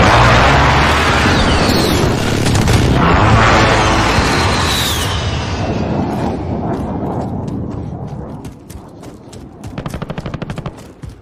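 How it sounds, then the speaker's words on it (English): Precision airstrike explosions in Call of Duty Modern Warfare, a loud rolling blast and rumble over machine-gun fire that fades, followed by a rapid burst of shots near the end. "Precision airstrike inbound."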